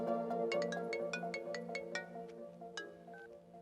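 A phone ringtone plays a repeating melodic tune of bright, evenly spaced notes, fairly quiet and steady for several seconds with no talk over it.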